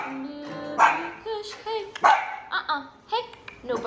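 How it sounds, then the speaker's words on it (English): A dog barks in several short, sharp bursts, mixed with a person speaking and whiny yelps in between. "Hey, no barking. No barking."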